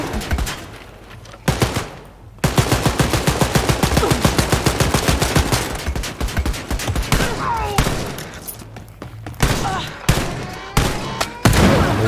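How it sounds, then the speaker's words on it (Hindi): Bursts of rapid automatic gunfire and explosions from the video game Wolfenstein Youngblood, loud and nearly continuous after a short pause, with dense shot rhythms and booming blasts. "हुआ क्या, बम कैसे फटा?"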